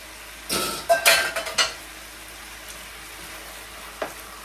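Drained ackee being stirred into saltfish in a pot: a cluster of close metallic spoon scrapes and clinks against the pot over a few seconds, then quiet with a faint sizzle and one last light knock.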